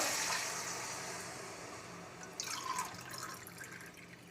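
Water trickles and splashes into a pot for cooking rice, fading slightly before a brighter burst of pouring near the end.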